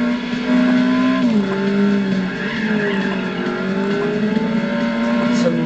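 A new Subaru Impreza rally car drives hard, its engine revving and pitch rising and falling with gear changes while the tires squeal and skid, loud and close throughout.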